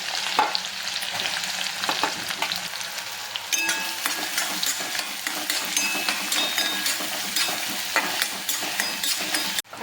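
Finely chopped onion fries in a pan over tempered cumin and mustard seeds, a loud, dense sizzle with frequent scraping and stirring clicks throughout, no talk.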